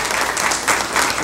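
Steady, dense applause from an audience at a school district board meeting, a brief even wash of many hands clapping with no talk over it.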